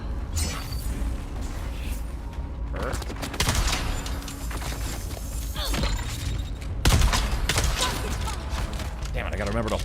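Gunshots in Dune: Awakening, several sharp loud cracks scattered among mechanical clanks and thuds, with game ambience running throughout.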